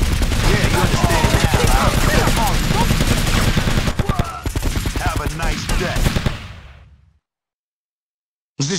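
Rapid gunfire in GTA Vice City Stories, a loud sustained burst of automatic shots for about six seconds that fades into near silence, with a brief sound returning at the very end.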